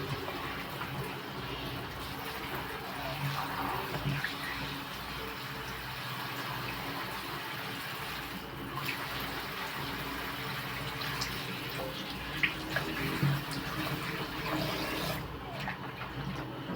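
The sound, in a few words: running water from motor-pumped tap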